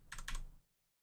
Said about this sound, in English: Hold shift and press up on the arrow keys.